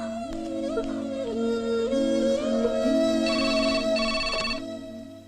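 A mobile phone ringtone plays continuously, a bright electronic melody repeating close by with no talking.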